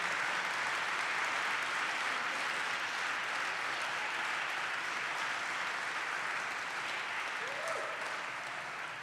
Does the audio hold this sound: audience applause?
yes